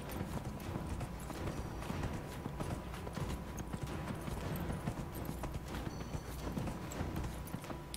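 Horse hooves clatter rapidly and continuously in a steady galloping rhythm during a horse race, fairly close, with no talking over it. From the video game Dragon Age: Inquisition.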